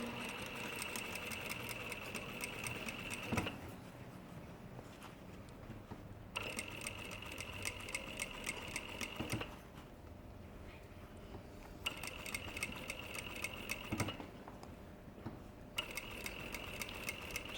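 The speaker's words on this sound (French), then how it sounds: "Reprise de piqûre." A sewing machine runs in several bursts of a few seconds each with short pauses between them while stitching a tailored jacket collar. The mechanical whir is steady and close, with no talking.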